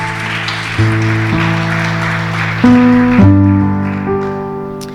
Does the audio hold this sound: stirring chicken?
no